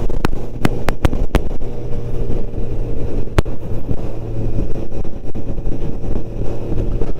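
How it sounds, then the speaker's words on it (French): A strong Mistral wind blusters hard against the microphone in a steady, loud roar, with a low engine hum from a Honda CB 1000 R motorcycle underneath and several sharp clicks early on. "Il y a le Mistral qui... Ça fait plusieurs jours que ça souffle, c'est assez énervant."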